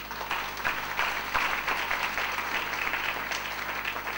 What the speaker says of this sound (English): Give Jesus a clap.